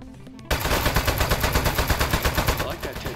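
In the Aperture Desk Job video game, a machine gun mounted on a toilet fires rapid rhythmic bursts, loud and close, that start abruptly after a brief quiet moment and keep going without pause.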